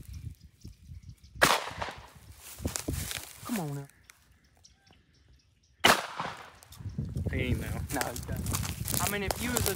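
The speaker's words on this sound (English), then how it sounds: "seeing if we can walk up on some and shoot them" Two loud, sharp shotgun shots several seconds apart while hunting nutria in a Louisiana swamp, each followed by people talking outdoors.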